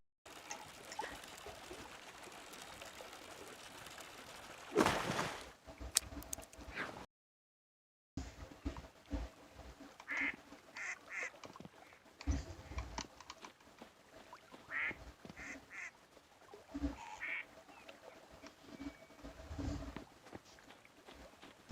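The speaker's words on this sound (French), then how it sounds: "Il n'y a pas qu'un bruit de canard" Scattered duck quacks from the video game Heartopia come in short bursts over a quiet background, with a brief gap of silence and soft trickling, splashy noises between calls during fishing.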